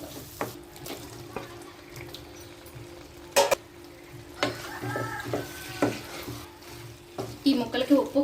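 Gongura chicken pieces being stirred and fried with salt and chilli in a pan, sizzling under repeated loud scraping stirs and clanks that grow busier toward the end.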